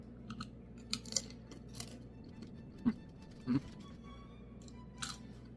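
Bites into homemade cinnamon-sugar coated apple crisps, a few sparse, quiet crunches spaced out over a few seconds, close to the mic against a soft room hum.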